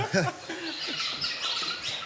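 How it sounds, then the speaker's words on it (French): Dozens of birds chirp and twitter above a cenote in Mexico, their calls faint and distant over an airy, echoing background, with a few voices murmuring underneath. "Survolés par des dizaines d'oiseaux"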